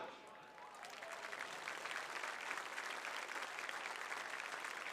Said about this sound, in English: let's give a warm round of applause from the class of 1989 to Dwayne Hitchcock